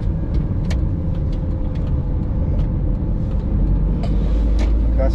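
Heavy road traffic in Doha, Qatar, is heard from inside a car as a constant low engine and road rumble, with faint clicks and a few brief hissing sounds from outside.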